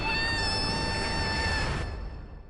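A single long, drawn-out cat meow from a MapleStory character changing into a cat, loud and tonal, then fading into a low background rumble.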